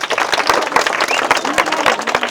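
Loud, close applause from a street-show crowd at a Bhojpuri comedy magician's tightrope act: rapid dense clapping with a few sharp standout claps and murmuring voices mixed underneath.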